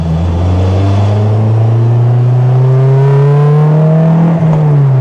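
A Honda S2000 engine drones loud and close while driving, its pitch climbing steadily as it accelerates on city streets, with a whirring tone layered over the steady roar.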